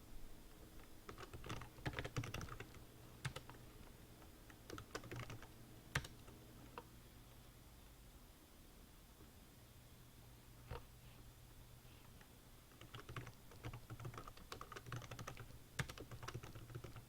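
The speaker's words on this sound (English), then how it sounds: "we are going to type in a few different kinds" Computer keyboard typing while entering data into an Excel 2010 spreadsheet, bursts of quiet keystrokes with a long pause in the middle, close but faint over a low steady hum.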